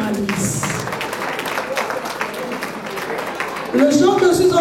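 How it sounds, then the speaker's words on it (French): An audience at an International Women's Day celebration in Ottawa claps and cheers for a woman who made birthday cakes, a steady wash of applause that swells louder near the end, with a voice rising over it. "Est-ce que nous pouvons acclamer pour Maman Louise?"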